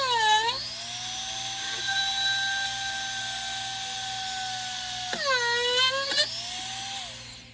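A small drill bores hanger holes in a wooden gingerbread Christmas tree topper. It gives a loud, high whine that spins up, holds steady, then stops near the end and briefly restarts.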